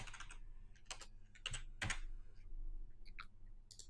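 Code is typed on a computer keyboard in soft, close key clicks, irregular and scattered across a few seconds, with no talking.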